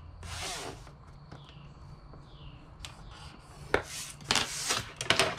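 Paper strips being scored on a scoreboard for a custom cookie box, heard as quiet scraping and rubbing strokes that become several sharper, louder scrapes toward the end, close up and without voices.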